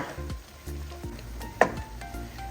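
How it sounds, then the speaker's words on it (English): Sirloin steak pieces sizzle in a pan over medium-low heat while being stirred, a steady close frying hiss broken by several scraping strokes and one sharp clink. "Give our meat a stir."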